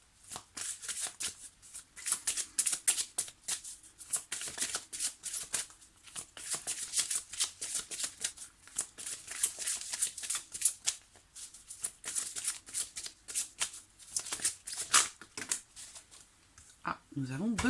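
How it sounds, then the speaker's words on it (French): Oracle cards of Archangel Gabriel are shuffled in rapid, continuous riffling flicks for a long stretch, crisp and close, with a final soft slide at the end. "on va regarder ici avec l'oracle de l'archange Gabriel"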